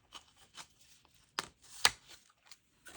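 A small paper name being cut out quickly, a series of short crisp snips and rustles, close and fairly quiet, with brief pauses between cuts.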